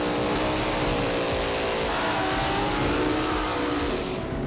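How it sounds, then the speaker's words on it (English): Two drag race cars doing burnouts at a track, engines screaming at high revs in a loud, sustained, close roar with harmonic whine that holds steady before easing slightly at the very end. "Let's see the burnouts, boys."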